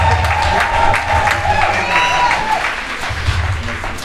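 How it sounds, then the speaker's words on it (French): An audience at a French-language public speech or rally claps steadily and loudly throughout, with crowd murmur and a sustained tone underneath. "On s'applaudit."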